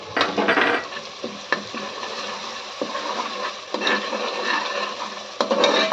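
A ladle stirs turmeric into masala frying in oil for a goat leg paya soup, a steady close sizzle with scraping strokes against the pan throughout.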